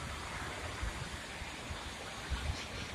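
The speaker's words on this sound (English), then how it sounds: "There's the lock gates opening." Water rushing steadily through opening canal lock gates on a waterway near Trèbes, a continuous broadband wash with no speech over it.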